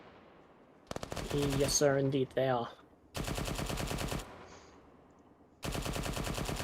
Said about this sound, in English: Gunshots are coming from bearing 150